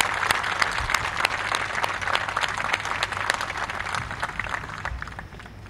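Steady applause from a studio audience during a live news bulletin, dense rapid clapping that holds for several seconds before thinning toward the end.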